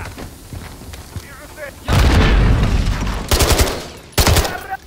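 Automatic weapon fire in the 2023 video game Call of Duty: Modern Warfare III during a firefight, with a long loud sustained burst followed by two shorter heavy bursts after a quieter start.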